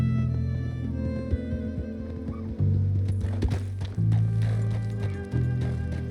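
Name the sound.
horse galloping in Red Dead Redemption 2 video game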